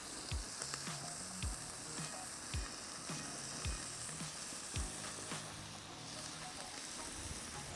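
A tri tip steak sears fat cap side down over a hot charcoal grill with a grill grate, crackling and sizzling steadily up close, with sharp pops and occasional metallic clicks scattered throughout.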